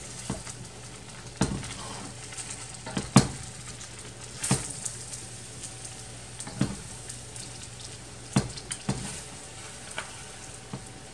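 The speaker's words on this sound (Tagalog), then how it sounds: "Maingat na maingat akong maghalo kasi tingnan nyo naman ang aking kawali ay sayaw ng sayaw." Pancit noodles are stirred in a wobbly wok, a soft continuous sizzle broken by repeated sharp scrapes and clanks of the utensil every second or two.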